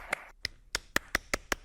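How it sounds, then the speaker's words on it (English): A handful of people clapping in a sparse, uneven rhythm, about eight distinct sharp claps spread across a second and a half, close and fairly clear, with no voices over them. "We're all clapping."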